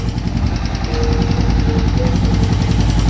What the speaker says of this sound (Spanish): Bueno, el motor suena bien